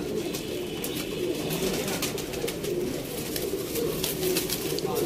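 Golden pigeons cooing steadily at a pigeon loft in Sialkot, a low continuous murmur of several birds close by, with faint scattered chirps and background noise throughout.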